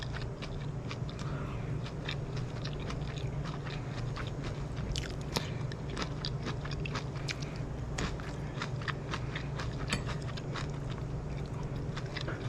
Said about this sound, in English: Getting some of that bacon jam for first bite.